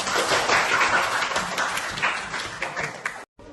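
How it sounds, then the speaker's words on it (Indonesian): A classroom of students in a chemistry lesson claps together in one dense, lively burst of applause that fills the room and then cuts off abruptly near the end. "Coba tepuk tangan semua"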